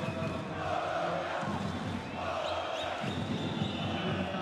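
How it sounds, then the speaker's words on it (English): Steady roar of a packed basketball arena crowd at a Segafredo Virtus Bologna versus SIG Strasbourg Champions League game, with drums, whistles and shouts swelling and easing continuously. "The whistle heard through all the noise and the drums and the whistles from the crowd."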